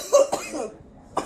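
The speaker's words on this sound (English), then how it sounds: "just listen to the man cough." A man coughs after taking a large cannabis dab. Two or three rough, close coughs come in quick succession, followed by a short pause and another sharp cough.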